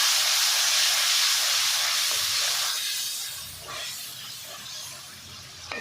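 Chopped tomato dropped into hot pulao masala for a chana pulao, giving a loud, steady steamy sizzle and hiss that slowly softens, with a small clatter near the end.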